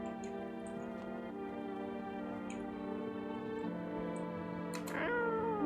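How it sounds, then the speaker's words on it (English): A cat meows repeatedly in the video game No I'm Not a Human, soft tonal cries layered over a steady droning musical background, with a louder sound rising at the end. "Oh, kitty!"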